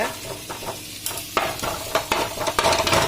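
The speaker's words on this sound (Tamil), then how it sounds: "இப்போ இப்படி ரெண்டு கரண்டி வச்சு இந்த மாதிரி பெரிய பீசஸாக இருக்கிறத கட் பண்ணி விட்டுக்கோங்க" Two metal spatulas chop homemade parotta on a hot pan for kothu parotta, giving irregular sharp scraping clacks over a continuous frying sizzle that grow louder and quicker toward the end.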